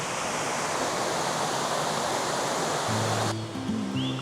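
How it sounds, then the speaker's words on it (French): Vérine waterfall in the Cézallier, Auvergne, a steady full roar of falling water filling the whole clip, loud and close, with low humming tones entering near the end. "La cascade de Vérine."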